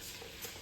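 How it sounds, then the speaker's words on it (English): Oil sizzling in a pot before sliced portobello and cremini mushrooms go in, for pasta with peas and sausage; a steady, soft hiss of frying with faint stirring, close and fairly quiet, without talk. "since this is already sizzling"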